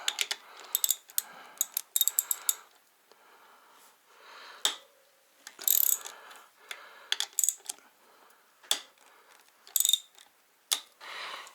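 Bolts loosen on the front wheel of a 2000 Honda XR600R motorcycle, a series of sharp ratcheting clicks in short bursts with quiet gaps between, close and alone with no talk.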